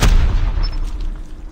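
Sniper rifle gunshot in a video game, a single loud boom at the start that fades into a rumbling tail.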